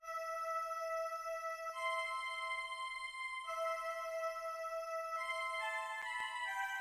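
A bright synthetic Art Duo virtual-instrument melody for a drill beat plays alone, with sustained tones stepping through a few note changes over several seconds and no percussion or voices.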